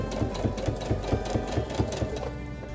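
A sewing machine stitches binding onto a quilted placemat in a fast, even run of needle strokes, close and moderately loud, with no voices.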